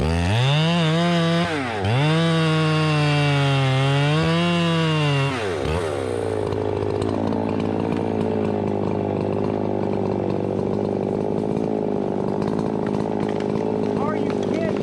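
A struggling chainsaw cutting wood runs loud and close, its engine pitch wavering and dipping before settling into a steady rough buzz as the chain bites in, with no talk over it.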